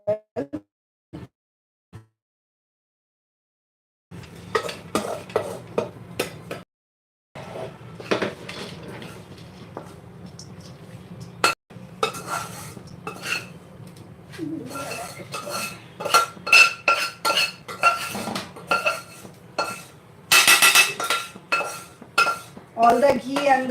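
Cooked carrot halwa made with jaggery is moved onto a plate, with sharp metal utensil clinks and scrapes against a pan and dish in a quiet kitchen, coming in irregular bursts that grow busier toward the end.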